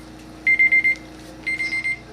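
A kitchen timer alarm goes off with two bursts of rapid, high electronic beeps, about five beeps each, loud and close over a quiet room hum.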